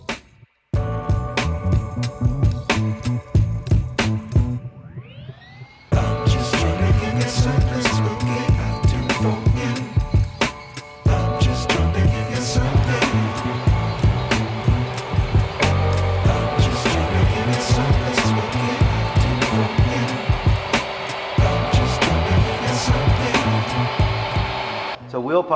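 A VW Tiguan 1.4 TSI with a DTE PowerControl X tuning box runs on a dynamometer. Its engine revs loudly and steadily with rising harmonic tones, a brief drop in the middle, then a sustained high-rpm pull.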